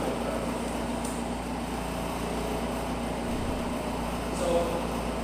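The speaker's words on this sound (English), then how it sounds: "I'm sorry about the noise of the aircon." Air conditioner running indoors during a lecture, a faint steady broadband hum and hiss that stays constant throughout with no clear change.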